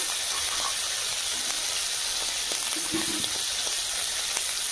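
Panch phoron whole spices sizzling in hot oil, a constant close hiss and crackle with a few small pops and clinks, no voices.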